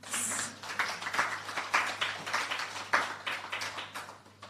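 Audience applause at a government STEM scholarship programme launch in Jamaica, a steady run of many hands clapping with sharper individual claps standing out, fairly close and sustained throughout before tapering slightly.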